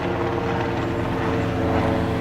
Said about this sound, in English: Excuse the plane going over, I'm on the flight path again.